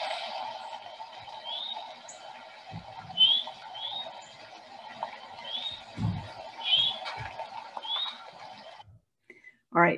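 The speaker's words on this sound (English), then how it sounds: "That's the Eastern Towhee." Eastern Towhees calling at Clark's River: at least two birds trade short, rising chirps about once a second over a steady low hum, with occasional handling thumps nearby.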